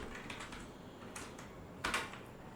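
Faint computer keyboard typing at a desk, several light scattered clicks with a slightly louder cluster of keystrokes near the end, no voice.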